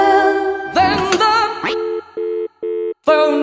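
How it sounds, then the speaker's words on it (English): A cartoon telephone rings inside a children's song, heard as a run of short, evenly spaced electronic tones after a burst of musical sound, loud and clear with brief gaps between the rings. "Then the phone rings."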